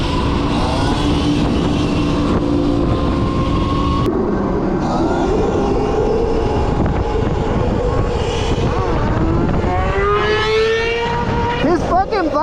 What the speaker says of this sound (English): Whose bike is making that noise, bro?